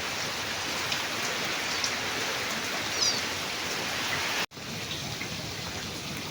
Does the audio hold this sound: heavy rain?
yes